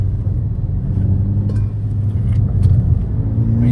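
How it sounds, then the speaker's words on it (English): A Volkswagen GTI engine rumbles deep and throaty through a custom Milltek exhaust, steady with slight swells in revs, loud and close, no voices. "That sound coming from that custom milltek exhaust is absolutely incredible."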